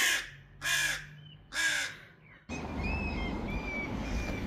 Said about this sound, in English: there's a cat in the tree over here, and all of the birds are very upset